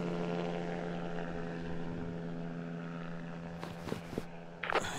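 A propeller airplane drones in the Greyhill Incident video game, a low, steady engine hum with a faint rumble, moderately distant and quiet, with a few sharp clicks and thuds near the end.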